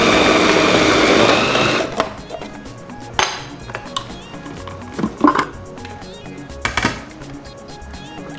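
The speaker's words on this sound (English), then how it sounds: "For the filling, I'm going to start by grating the carrots." Carrots being grated in a food processor for a coconut chicken pie filling, a loud steady whirring motor at the start that cuts off, followed by scattered clattering and knocks of the bowl and lid.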